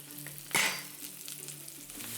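Sausages sizzle in olive oil in a hot pan, with a burst of louder crackling near the start before settling into a steady, quiet fry.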